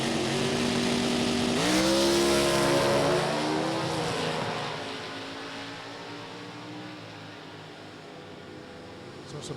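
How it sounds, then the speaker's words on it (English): A drag race car engine at Summit Motorsports Park drones loudly, then its pitch bends and the tone winds down as the car clicks off and coasts, leaving a fainter, lingering engine rumble. "You hear the car click off, rolling slowly over there left side for Brian Siebenek, 11:40."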